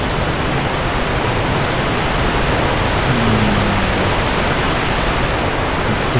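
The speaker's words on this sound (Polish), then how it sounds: "Pewnie nie za bardzo mnie słychać przez ten wodospad." A waterfall in the Dark Souls II game rushes as a dense, loud, unbroken roar of broadband noise filling the whole clip, with no voice rising above it.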